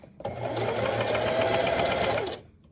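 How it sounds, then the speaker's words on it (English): A sewing machine stitching fabric pleats on a face mask, one continuous fast mechanical whir lasting about two seconds after a brief start, close and clear with no voices. "we're just going to sew these seams, or these pleats rather, together"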